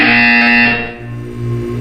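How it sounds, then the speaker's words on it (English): A harsh electronic buzzer from the Portal video game blares loud and close, a steady sustained tone that fades slightly then continues at a lower level. "When you hear the buzzer, look up at the ceiling."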